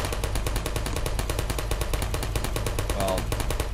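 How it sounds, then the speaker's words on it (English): Automated turrets in the video game Portal fire a rapid, continuous stream of shots, steady and loud throughout, close up, with a voice faintly audible under the gunfire. "There's our little droids that can shoot at you if you walk in their, into their sight"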